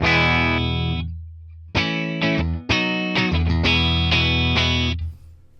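Clean electric guitar tone from the bridge pickup through a ToneX amp modeler, several ringing chords strummed with pauses between, sustained and bright, alone with no voices.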